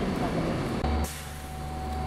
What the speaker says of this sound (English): A terminal bus took us to our plane.